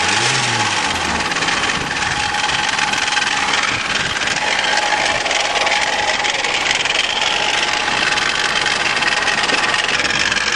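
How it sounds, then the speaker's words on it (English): A Volvo 760 Turbo's engine idles steadily and loudly for the whole stretch, with a rough, rattling mechanical clatter running through it and no voices. "Funny noises from the motor,"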